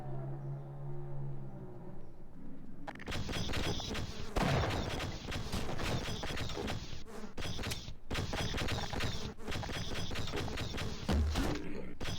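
Rapid bursts of gunfire from the Half-Life: Source final level in Xen, as the player shoots down aliens, loud and dense with brief gaps between volleys, no talking.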